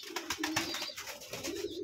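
Pigeons in a loft at morning feeding coo in a steady low throb, several birds overlapping nearby with light fluttering and shuffling.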